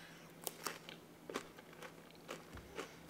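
Someone bites into pickled jalapeno guacamole topped with corn, a few soft crunchy bites and chewing sounds close to the mouth, faint and quiet with no talk.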